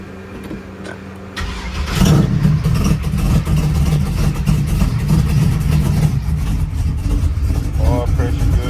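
A 1979 Chevrolet Malibu with an LS engine swap and an electric Holley fuel pump starts up and settles into a loud, rumbling, lumpy idle close by, with someone talking over it.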